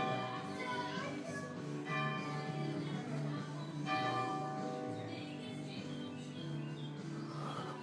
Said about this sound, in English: Do you hear the church bells?